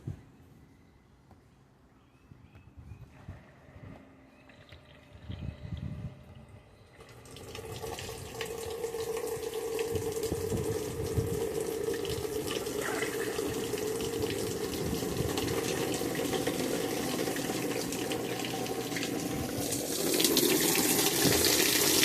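A Maytag Bravos XL top-load washer starts filling, with soft clicks and quiet mechanical sounds giving way to a steady, close rush of inflowing water that continues to the end without talk.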